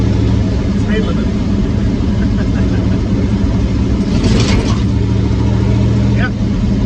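A rat rod car cruises down a highway at night, a steady loud engine drone and road roar filling the whole stretch with only small shifts, while someone talks over it.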